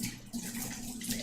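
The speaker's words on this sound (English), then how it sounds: "I'm gonna just rinse this and then I'll start prepping." A kitchen tap runs steadily as vegetables are rinsed under it, a continuous close splashing hiss with no voices.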